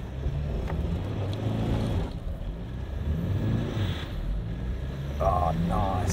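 A 4WD SUV driving off-road over moguls, its engine a low rumble that rises as the throttle is applied, with wind buffeting and someone talking over it.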